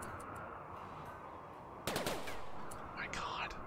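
Rimworld gunfire, a sharp burst of rapid automatic shots partway through over a quiet game background, followed by a few fainter bursts.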